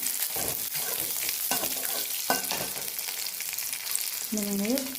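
Shallots and curry leaves tempering in hot oil give a loud, close sizzle with bursts of crackle as a spoon stirs and scrapes the pan.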